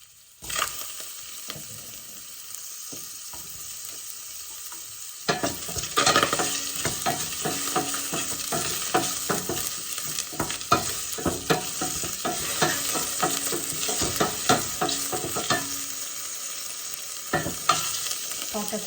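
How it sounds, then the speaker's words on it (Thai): Garlic and shiitake mushrooms stir-fry in hot vegetable oil in a pan, a steady sizzle that grows louder after a few seconds, with frequent scraping and stirring clatter throughout, close up and without talking. "แล้วก็ใส่กระเทียมกับ เห็ดหอมลงไปผัดเลยนะคะ"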